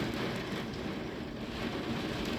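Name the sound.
hail hitting a car windshield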